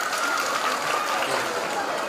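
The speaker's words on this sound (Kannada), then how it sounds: "ಜೋರಾಗಿ ಚಪ್ಪಾಳೆ ತಾವೆಲ್ಲ ತಟ್ಟಬೇಕು" Audience applause at a religious ceremony with a swamiji, a dense, steady wash of clapping from a large crowd that holds evenly for about two seconds.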